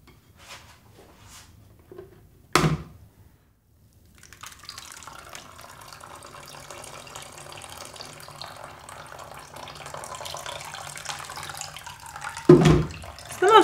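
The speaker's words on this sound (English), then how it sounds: "we're gonna try to pour the spout of the blender in through the cheesecloth" Mushroom fiber slurry pours from a blender spout through cheesecloth while making paper, a steady trickling splash of liquid that builds over several seconds, with a couple of sharp knocks around it.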